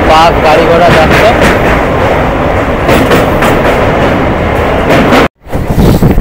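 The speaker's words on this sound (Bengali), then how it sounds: "তো সামনের থেকে একটা ধীর গতিতে লোকাল ট্রেন ছুটছে।" A slow local train on the Dankuni–Sealdah line rumbles past near Bally Halt station, with a loud, close, continuous rolling clatter of wheels on track, then a brief cutout before the noise resumes.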